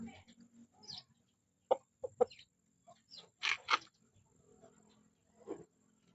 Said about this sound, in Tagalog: Oh, binubuhat pa yung manok.